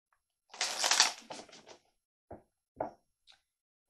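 Tarot cards shuffled during a reading, a dense riffling burst followed by a few separate soft card taps and knocks, close and fairly quiet with no talk.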